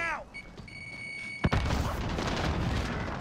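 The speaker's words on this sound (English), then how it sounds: "just throw a random grenade" A grenade goes off in a Call of Duty Warzone match: a short electronic tone, then a sudden loud blast whose rumbling debris noise continues to the end.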